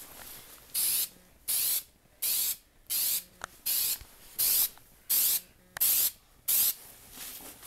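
An aerosol spray can hisses in about ten short, evenly spaced bursts while painting an M4-style JGM4A1 airsoft gun, close and crisp with quiet gaps between.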